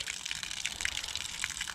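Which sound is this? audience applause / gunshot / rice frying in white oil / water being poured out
water being poured out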